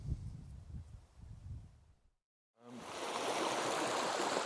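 The Daaquam River flows as a small stream near its source. A low rumble cuts to brief silence, then steady, close rushing water fills the rest, with no voices.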